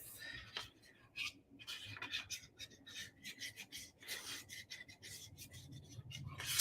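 Fork stirring protein mug cake batter in a mug: quick, faint scraping and rubbing strokes in an irregular rhythm, close by and quiet, with small taps of metal against the mug.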